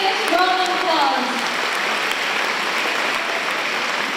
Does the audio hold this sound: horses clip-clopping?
no